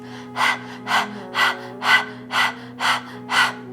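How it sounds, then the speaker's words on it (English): Rapid breath-of-fire breathing forced through the nose, seven sharp, evenly spaced exhalation bursts about half a second apart, close and clear over a steady low hum. "I'm going to do all of that breathing through the nose"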